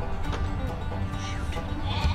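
Sheep or goats bleating in a large flock of about 2,500 animals, several overlapping calls over a steady background of movement and noise.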